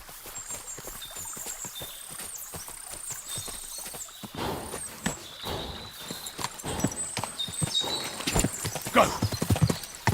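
Horse hooves clip-clop in a steady, quick rhythm in the medieval video game Kingdom Come: Deliverance II, growing louder and busier toward the end, over faint high tonal game sounds.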